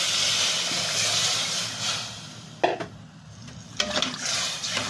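Aromatics cooked together with a souring agent and seasoning for a sinigang milkfish broth give off a steady, close hiss and sizzle. Two brief knocks from stirring break through the hiss, with no talk.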